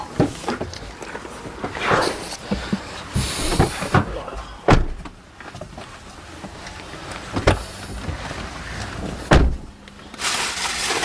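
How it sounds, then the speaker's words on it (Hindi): Several doors close on their own one after another, with sharp thuds and slams cutting through steady mechanical hum and rattling, some shutting near and loud, others softer. "दरवाजे मेरे सामने बंद हो"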